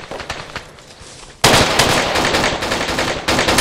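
Machine gun fire in a co-op military video game: a quieter burst of rapid shots, then a sudden loud, dense stretch of sustained automatic fire that runs to the end with no talk.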